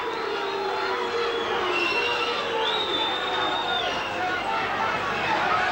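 A stadium crowd at a 1986 rugby league tour match between Hull Kingston Rovers and Australia jeers the referee in a steady, distant roar, heard beneath a commentator's talk.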